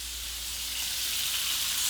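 Beef slider patties sear in a hot pan with a loud, continuous hiss and crackle right up close, building slightly and never letting up, with no voices.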